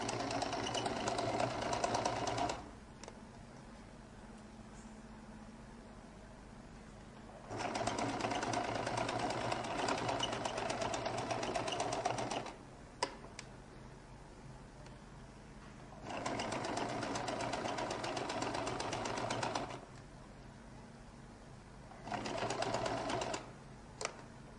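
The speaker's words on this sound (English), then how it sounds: "I'll make sure that I sew a little bit away from the collar, so just slightly away, like 1 millimeter away from it." A sewing machine stitches along a lady's jacket collar in long steady runs of several seconds, a close rapid mechanical whir that stops and restarts between quiet pauses.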